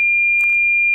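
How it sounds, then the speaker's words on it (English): A steady, piercing high-pitched electrical tone from a computer holds unchanged for the whole second, with faint brief noise bursts in the background. "Computer has a very high pitch frequency sound"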